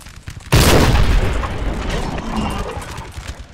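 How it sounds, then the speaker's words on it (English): A cannon fires in Napoleon: Total War, a sudden loud boom that rolls into a long rumbling battle din of crackling fire and distant mechanical clatter. "I think this cannon is just about ready to fire."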